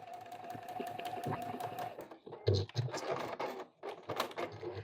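Sewing machine stitching short seams across a fabric first-aid roll-up, a steady mechanical whir of needle strokes running for about two seconds, pausing, then resuming in bursts with some handling knocks.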